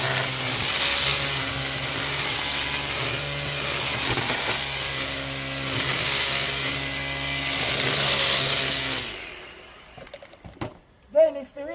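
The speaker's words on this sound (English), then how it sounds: "So I'll get my strimmer and I'll show you what I mean, what I'm doing." A petrol string trimmer, or strimmer, cutting the tops of grass, a loud steady buzzing whine that swells and dips for about nine seconds before cutting off, leaving quieter clatter and a short voice.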